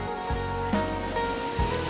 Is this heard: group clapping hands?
no